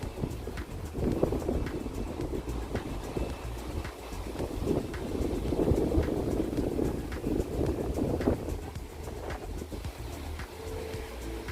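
Steady wind gusts rush past outdoors in the countryside, a continuous low roar with swells that buffet the microphone, plus faint bird sounds in the distance.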